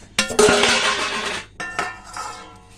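Egg sandwich filling is mixed in a bowl, with a spoon scraping and clinking against the dish in two bursts, the first longer and louder, close by and without speech.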